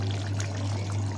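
Water poured into a pot of small-fish curry as it cooks, a steady, close pouring splash over a constant low hum, with no voices.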